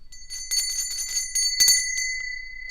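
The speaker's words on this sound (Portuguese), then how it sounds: "quando o sino bate e me incomoda, esse som, é porque está fazendo efeito" A bell rings with bright sustained metallic tones and repeated struck shimmers, two clusters of strikes close and moderately loud, with no voices.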